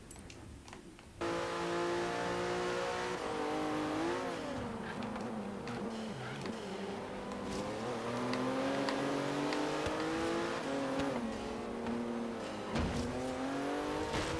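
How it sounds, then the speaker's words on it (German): A Porsche engine in Forza Horizon 3 accelerates hard, the revs climbing through several gear changes with rising and dipping tones, loud and close, with faint tire sounds and no voices. "Komm, jetzt zieh, mein kleiner Porsche."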